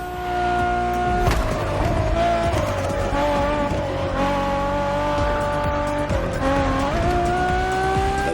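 A Ferrari racing in The Crew Motorfest drones loudly at high revs, with engine pitch dropping at shifts and brief bursts of tire squeal and skidding, no talk.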